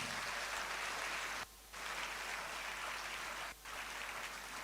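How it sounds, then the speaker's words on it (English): Continuous applause at an induction ceremony for newly qualified physician assistants: an even, hissing wash of many hands clapping, broken by two brief dips where the sound cuts out. "please don't let the applause die"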